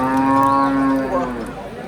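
A single dairy cow lets out a long, loud, close moo that slowly fades, with faint background noise around it, at the Qoraburug' livestock market in Chiroqchi, Uzbekistan.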